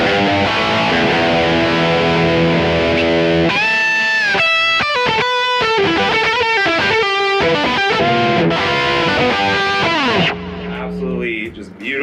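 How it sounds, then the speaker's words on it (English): Distorted electric guitar from a 2013 Fender SRV Stratocaster rings out loud and sustained, then shifts into choppy, rhythmic chords and riffs before settling into a held note. "I'm going to switch over to a little bit of gain."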